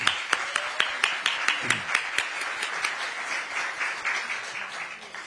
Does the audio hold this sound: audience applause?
yes